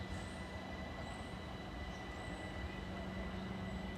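Trains 710 and 306 pass through Tonbridge station on the Southeastern main line toward Ramsgate via Canterbury West, giving a steady, continuous rumble of wheels and carriages that holds at an even loudness throughout.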